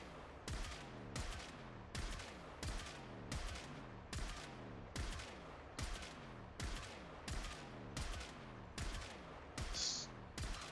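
Steady bursts of gunfire from viral-infused shots in the Warframe video game, about a dozen evenly spaced loud volleys, each a rapid rattling cluster of shots, with no talking.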